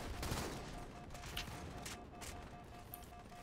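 Rapid gunfire bursts from the Halo video game crackle through a steady, dense mix, with sharp shots standing out near the start and around the middle; a faint voice is barely present underneath.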